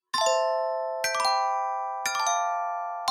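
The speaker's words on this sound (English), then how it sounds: "Play the chime." A bright doorbell-style chime rings out four times at roughly one-second intervals, each strike a clear ringing two-tone ding with a long sustained decay, loud and alone without any talk.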